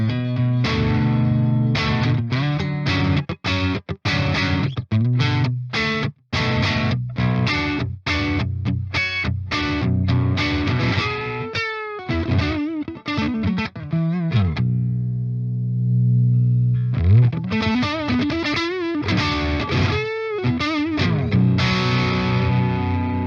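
Heavily distorted metal guitar runs through a Bogren BH4 amp plugin with its cab, playing tight staccato chugs with short gaps, then sustained bending notes and a dense riff, loud and upfront with no talking.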